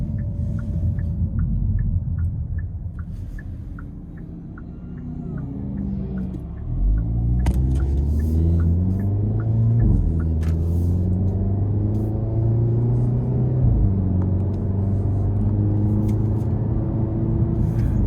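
A 2025 Hyundai Elantra N in sport mode pulls hard, its engine note climbing through the revs and dropping at each delayed upshift, a steady interior rumble with no talking.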